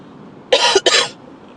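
A single close cough in two quick bursts, loud and clear against a quiet background.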